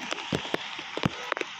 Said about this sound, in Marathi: आपल्याला लक्षात येईल की किती जोरात पाऊस पडत आहे आणि किती जोरात पाणी चालू आहे।